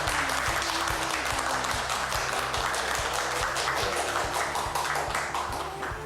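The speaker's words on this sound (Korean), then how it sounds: "박수 부탁드립니다." An audience at a public lecture on local self-governance applauds as the speaker is welcomed, a steady wash of many hands clapping with a rhythmic low thumping underneath, continuous throughout.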